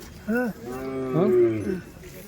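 A cow moos close by at a livestock show, a short call followed by a longer, drawn-out low moo.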